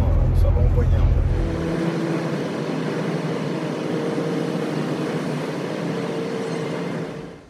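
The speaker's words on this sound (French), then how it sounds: "c'est un V8. Un V8 en diesel. Donc là, ça va envoyer un peu." A 435-horsepower V8 diesel car opens with a heavy, deep, loud rumble that gives way to a steady broad roar, while people talk over it.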